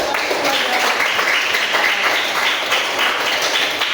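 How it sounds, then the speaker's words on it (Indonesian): A class of students applauds, steady close clapping forming a dense continuous patter for the whole stretch. "tepuk tangan untuk kalian"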